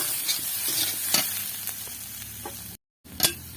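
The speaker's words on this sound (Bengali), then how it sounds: "মোচাগুলো দিয়ে ভালো করে নাড়িয়ে নেব" Banana flower and fried potatoes are stirred in a hot pan, making a close, crackling sizzle with repeated scraping strokes and a short break of silence near the end before one more stir.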